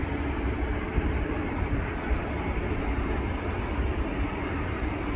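An EasyJet airliner departing from an airport viewing park, heard as a steady broad jet engine roar, distant but continuous and unchanging in loudness throughout.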